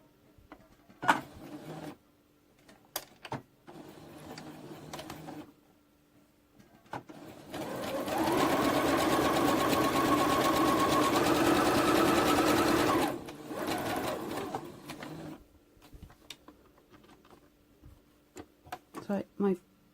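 Domestic sewing machine stitching fabric for a blue tunic, running in one steady whirring burst of about five seconds between quieter pauses, with clicks and handling noises and some quiet talk around it.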